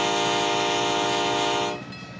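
A loud, sustained train horn blares close up for about two seconds, then cuts off and leaves a softer rumbling tail; no talking over it.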